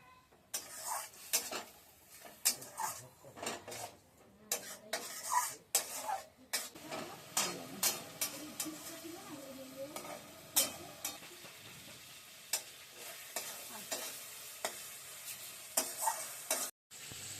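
Dried fish lara (shutki) cooking down in a pan after water is added, with intermittent scraping and tapping stirs over a soft, steady sizzle. No one speaks.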